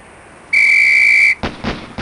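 In the Police Quest: SWAT video game, a shrill whistle sounds once on a single steady tone for under a second, followed by a few sharp bursts.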